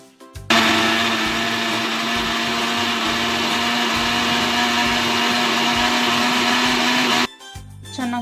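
A mixer grinder whirs steadily for about seven seconds, grinding cardamom and poppy seeds with a splash of milk into a soft paste, a loud continuous motor drone that starts abruptly and cuts off near the end.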